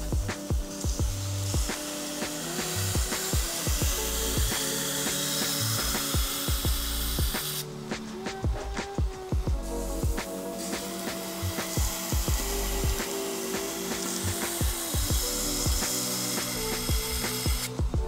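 A knife edge being ground on a sharpening machine, heard as a continuous mechanical whir with repeated sharp scraping strokes and clicks in an irregular rhythm, close and fairly loud, with no speech.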